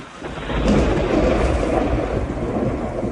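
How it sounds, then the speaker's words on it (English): Thunderstorm and heavy rain effect from the Living Seas show at Epcot Center, 1997: a loud, continuous, broad roar of rain with a deep rolling rumble underneath, steady throughout with no voices. "Rain upon that planet Earth."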